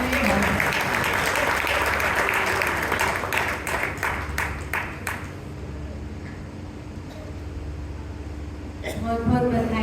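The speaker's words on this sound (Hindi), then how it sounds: "एक बार ताली बजाओ।" An audience at a community hall event breaks into loud, sustained applause that gradually thins out into scattered claps, with a few voices murmuring underneath.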